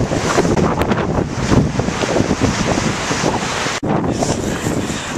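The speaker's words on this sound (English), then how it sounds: "It's definitely windy." Strong wind buffeting the microphone on an open hiking trail at The Dome near Boulder, a loud continuous roaring rumble with gusty swells and one abrupt brief drop, no voices.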